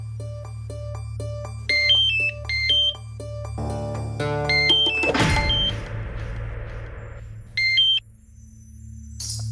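A mobile phone's melodic electronic ringtone plays as a repeating tune over a low drone, with a sudden whooshing swell in the middle before the ringing resumes briefly; no talking.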